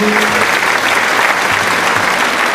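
A loud, dense round of applause from an audience fills the whole moment, steady clapping without a break.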